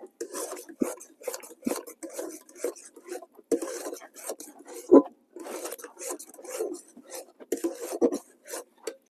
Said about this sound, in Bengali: এইভাবে কিন্তু ক্রমাগত নাড়াচাড়া করতে হবে